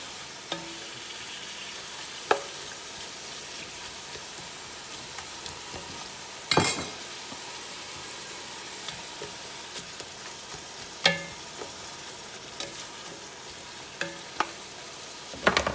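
Onions plus red and yellow peppers sizzle and fry in a big jambalaya pot, a steady close hiss broken by sharp stirring clinks and scrapes, with no voices.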